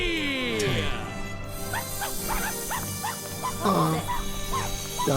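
A dog in the video game Ni No Kuni: Wrath of the White Witch gives a series of short yips and barks amid game music and effects, with voices talking over it.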